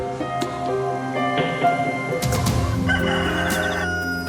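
Roosters crow loudly over steady clucking from a flock of hens, close by and continuous.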